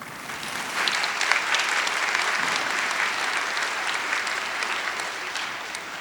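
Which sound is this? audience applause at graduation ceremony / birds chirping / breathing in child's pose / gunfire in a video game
audience applause at graduation ceremony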